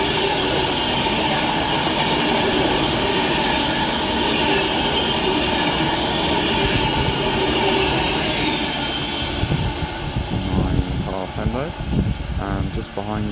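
An Avanti passenger train passes at Bushey on the West Coast Main Line, a loud sustained roar of rolling wheels with squealing and clatter that eases off toward the end, with people talking over it.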